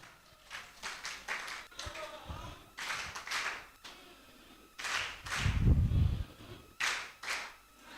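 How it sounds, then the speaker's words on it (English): An audience at a trainers' summit in Calabar claps for themselves in uneven bursts of hand claps and thuds, with voices mixed in around them. "please give yourself a resounding love clap"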